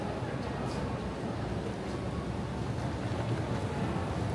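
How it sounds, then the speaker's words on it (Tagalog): Steady outdoor wind noise at Himeji Castle buffeting the microphone, a continuous low rumble with no pauses throughout. "Mahangin kasi siya."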